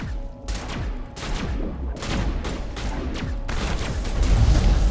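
Shotgun blasts in Mass Effect combat boom out in quick succession, several loud close reports with short gaps and a heavier rumble toward the end.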